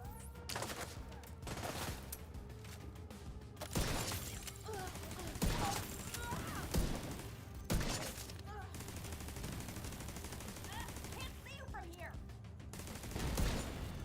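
Pistol shots fired at turrets in a hardcore realism shooter game, sharp reports spread irregularly across the clip amid busy game noise, with a voice talking in places.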